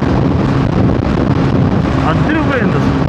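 Strong wind roars and buffets against the microphone while riding a Bajaj Pulsar NS400Z motorcycle at top speed, a loud continuous rushing blast with a voice partly heard beneath it.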